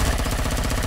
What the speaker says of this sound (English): Yeah, minigun.